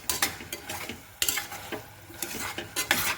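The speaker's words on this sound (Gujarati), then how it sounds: "બધા મસાલા મિક્સ કરી દઈએ।" Spices are stirred into vegetable rice in a pan, with repeated close spoon scrapes and clinks against the metal over a light sizzle, continuous and fairly loud.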